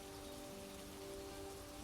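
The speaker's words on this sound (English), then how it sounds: "He was quite pleased when he looked out and saw large drops of rain splashing in the pond." Steady rain falls as a soft, even hiss of drops splashing on a surface, played as a quiet sound effect under a faint sustained musical tone, with no talking.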